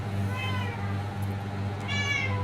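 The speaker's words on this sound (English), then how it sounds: "Meow." A pet cat gives two distinct meows indoors, near and clear, over a constant low hum in a room during math revision.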